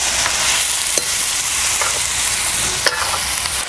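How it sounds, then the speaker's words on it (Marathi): Onion and tomato masala for chicken gravy is sautéed on a wood-fire stove, giving a loud, close sizzling hiss broken by occasional scraping stirs and clacks of a spoon, with no talking. "कांदा टमॅटो बरोबर आहे आपल्याला परतून घ्यायचं सगळीकडे ना मसाला लागला पाहिजे"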